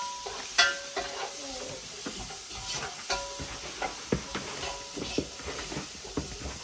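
Onions, tomatoes and chicken masala sautéing in a pan: a quiet continuous sizzle broken by repeated scraping and tapping stirs at an irregular rhythm, close by, with no talking.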